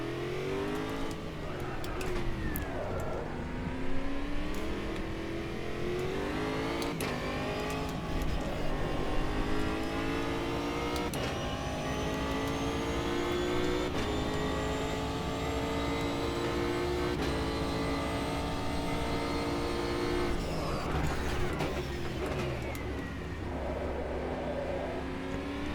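A Panoz GTR-1 race car circles Indianapolis in Automobilista 2, its engine screaming through long rising gear pulls with quick shifts and dips, loud and continuous from the cockpit throughout.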